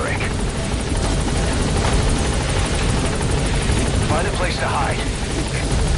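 A helicopter touches down in Metal Gear Solid V, its rotor roar loud and constant with a steady chopping wash, while a voice speaks over it.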